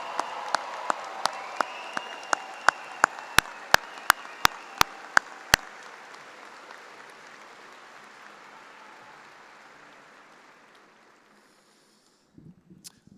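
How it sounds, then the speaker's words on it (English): Commencement crowd applauds graduates in a large hall, steady clapping that slowly fades out, punctuated by a series of sharp regular clicks, then a brief shuffle near the end. "Let's give them a big round of applause."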